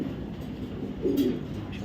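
A pair of young black checker racing pigeons coos softly, with one brief low, throaty coo standing out midway over steady background hum.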